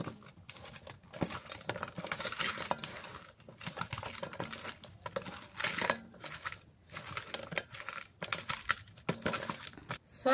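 Bare hands mix pumpkin greens with salt, turmeric, chili, and garlic, onion and cumin pastes, producing close, wet squelching and crunching in repeated irregular bursts separated by short pauses.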